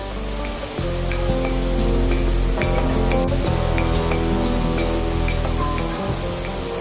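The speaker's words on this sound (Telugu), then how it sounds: "అసలు ఈ రోజు ఉదయం నుంచి కూడా విపరీతమైన వర్షం" Heavy rain pours down steadily by a balcony, a dense, loud wash of drumming drops with occasional sharper splashes nearby.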